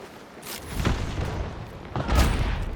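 Two heavy booming explosions in the Hunt: Showdown video game go off to the left, one just under a second in and a louder one near the end, each with a low rumbling tail.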